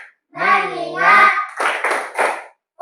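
Children in a classroom doing a clap-focus ice-breaking game: a group voice call is followed by three sharp, evenly spaced bursts of unison clapping, close and fairly loud, then a brief pause.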